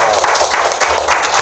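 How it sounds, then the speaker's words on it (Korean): Studio audience at a Korean reading talk show claps, a brief burst of dense, even applause from a group of people, close and fairly loud. "일단 박수 한번 주세요."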